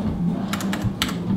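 Keys tapped on a computer keyboard while entering a network command, a brief cluster of light clicks over a steady low hum, fairly close.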